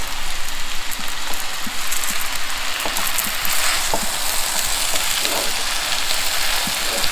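Chow fun rice noodles sizzle loudly in a hot pan while being stirred, a dense crackling hiss with scattered soft scrapes and taps throughout.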